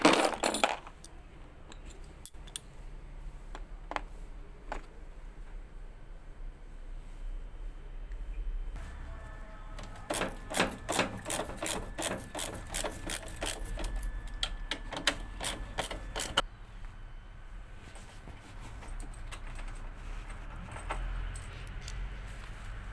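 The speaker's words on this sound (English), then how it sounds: "And then now open the two bolts. We use number 10." Ratchet wrench working two 10 mm bolts loose on a Samsung washer, with faint scattered clicks early on, then a rapid dense run of metallic ratcheting ticks in the middle before it tapers off to quieter handling.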